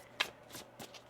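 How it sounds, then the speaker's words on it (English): Tarot cards being shuffled give three quick, crisp riffling bursts, close and fairly quiet, with no talk over them. "One more shuffle here."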